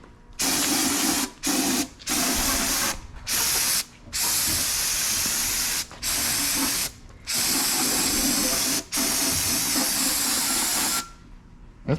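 CRC spray cleaner hisses onto an engine gasket of a 4.8 LS build in a series of loud, close bursts, some long and some short, with brief silent gaps between them and no talk.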